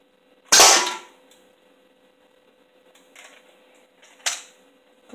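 A Nerf toy gun fires with one sharp, loud snap, followed by a couple of quieter clicks and a second fainter pop a few seconds later, with no talking.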